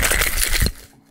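Ice rattles hard inside a cocktail shaker in a quick, loud burst of rapid clattering that stops abruptly after about half a second.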